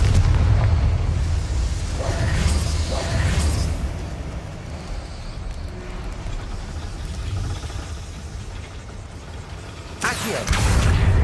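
Explosions from the Confringo spell in the game Hogwarts Legacy produce a loud, rumbling blast bed with heavy low booms and sharper bursts near the start and end.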